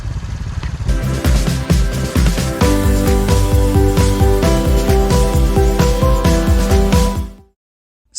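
A Honda Trail 125 motorcycle engine turns over and settles into a loud, steady idle with rapid rhythmic pulsing, then goes quiet abruptly near the end.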